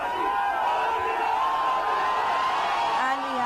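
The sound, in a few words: crowd cheering wildly at metro station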